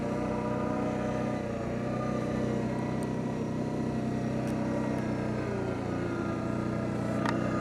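An Arctic Cat Diesel 700 snowmobile engine drones steadily and loudly throughout a test ride through heavy, wet snow, a constant close rumble with no pauses.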